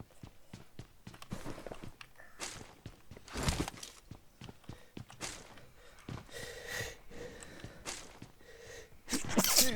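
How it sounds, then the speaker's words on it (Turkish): A sneeze heard amid sporadic footstep-like thuds and breathy noises during a PUBG Mobile session, fairly quiet overall with a brief sharp burst near the end. "hapşırıktır tuttu ha"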